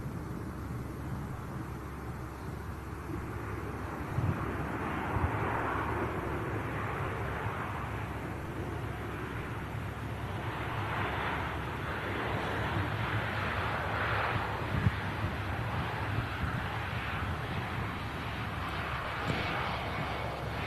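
A fixed-wing airliner passes an airport plane-spotting spot, its engines giving a steady, broad jet roar that holds at moderate distance for about twenty seconds with faint wind on the microphone and no talk.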